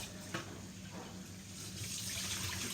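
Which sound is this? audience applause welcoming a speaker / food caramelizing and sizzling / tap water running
tap water running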